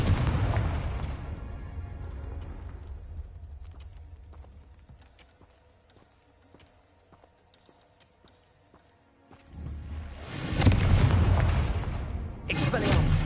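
Confringo spell blasts in Hogwarts Legacy: a loud burst of booming explosions at the start fades into quiet rumbling, then a second heavy explosive burst erupts near the end.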